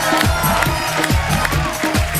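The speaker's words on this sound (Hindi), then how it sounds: "जोरदार तालियां हो जाए हमारे मेहमानों के लिए।" Loud studio audience at a live Hindi comedy show, with a dense wash of applause and cheering throughout and voices mixed into the crowd noise.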